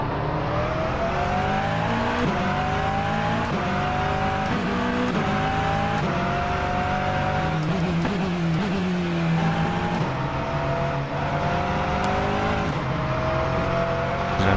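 A race car engine in the rFactor 2 racing sim drones loudly and continuously, rising in pitch through the gears with repeated upshifts and brief lifts, close and constant with no voices.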